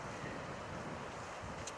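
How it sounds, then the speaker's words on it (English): Wind blows outdoors where a whitetail buck is being caped, a steady, faint broadband rush buffeting the microphone with no talking. "a little windy out here"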